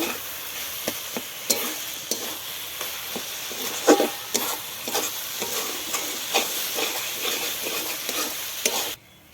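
A spoon stirs batter mixed with powdered milk in a sizzling pan, giving repeated scraping strokes over a steady frying hiss, close and fairly loud before cutting off abruptly at the end.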